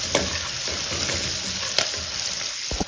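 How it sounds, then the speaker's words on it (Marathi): Chopped onion fries with turmeric in a pan, a steady close sizzle with occasional scraping stirs. "कांदा 2 मिनिट भाजून झालं"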